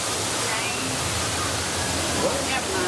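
A steady, dense roar of falling water, like a waterfall, rushing continuously without pause, on the Living with the Land boat ride at Epcot, Walt Disney World.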